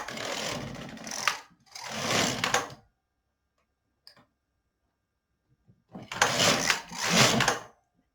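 An LK 150 knitting machine carriage is pushed across the bed, making two bursts of rasping, clattering passes, then a pause, then two more passes.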